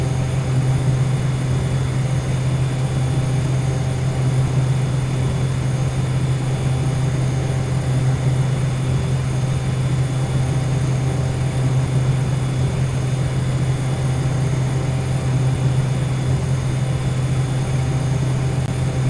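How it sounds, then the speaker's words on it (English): Steady, loud drone of a Boeing 737-800's jet engines in the Microsoft Flight Simulator X game, a continuous low hum with broadband roar holding even throughout, with no talking. "Oh look, we have a Boeing 737-800, I believe."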